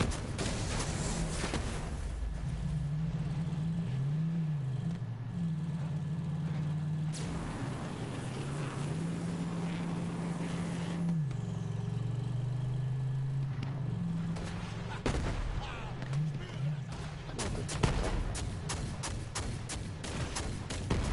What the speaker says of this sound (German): Oh, Auto, brumm, brumm.